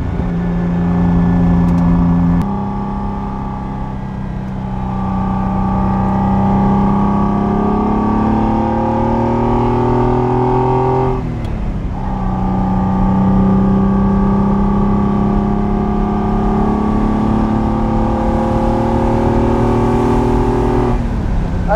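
A 1974 Ferrari 246 GTS Dino with its mid-mounted V6 pulls hard through the gears, loud close engine tones rising in pitch with clear drops at each shift.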